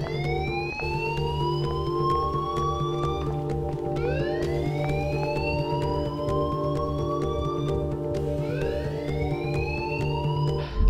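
Blaring alarm siren in the Life is Strange video game, rising wail cycles repeating about every four seconds over a constant low hum, loud and unbroken with no voices.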